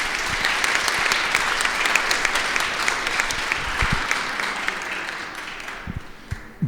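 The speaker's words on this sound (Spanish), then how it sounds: "Así que lo recibimos con un fuerte aplauso nuevamente," A room full of people gives warm applause to welcome a speaker at a Bolivian short-story book event, dense clapping that slowly thins out and fades toward the end.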